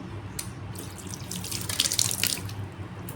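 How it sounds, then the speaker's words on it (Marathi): Tap water runs and splashes into a bottle, a continuous hollow gush with small fluctuations as it fills. "भरून घेतली मी अशी बॉटल पाण्याने"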